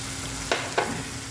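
Pork curry seasoned with green chillies and ground black pepper is stirred in a pan, giving two short scraping strokes over a steady low hiss.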